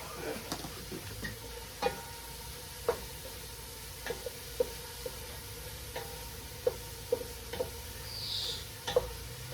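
Onions frying and being stirred in a pan: a quiet, steady sizzle under scattered light clicks and taps of a utensil against the pan, heard close without any talk.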